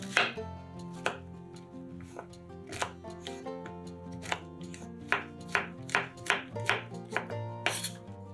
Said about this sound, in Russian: 250 грамм шампиньонов нарезаем небольшими кубиками